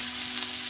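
Ivy gourd (kundri) frying in a pan, a steady soft sizzle with a faint hum, brief and alone without talk.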